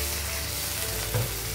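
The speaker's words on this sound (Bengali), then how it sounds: "এখন আমি জল অ্যাড করে দেবো।" Water goes into a pan of sizzling paneer masala, a dense close frying hiss that swells briefly as the liquid hits the hot spiced oil.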